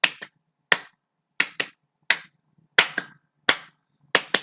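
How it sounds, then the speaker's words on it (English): Sharp paired claps repeat seven times in a steady rhythm, close and crisp, with silence between each pair. "Now double claps."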